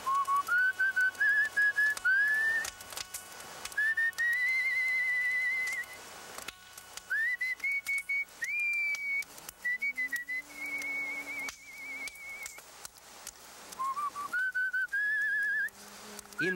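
A man whistling a tune, in a documentary about Holocaust survivors of Birkenau, with clear sustained melodic phrases in several spaced runs, close and alone with no talk.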